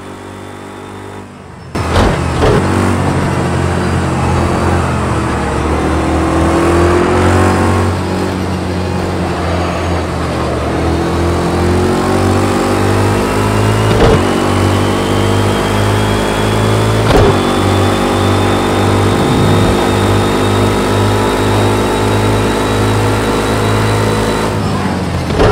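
Racing car engine in the video game Project Cars holds a loud, steady roar, then climbs slowly in pitch as it revs, with a few sharp transient knocks along the way and no voices.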